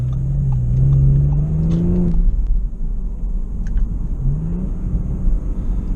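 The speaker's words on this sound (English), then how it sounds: "The exhaust on this vehicle has some very nice burbles and pops." A 2018 Audi S5 Convertible's exhaust rumbles loudly while the car drives, with a rising engine note early on followed by a deep steady drone; distinct pops are hard to pick out.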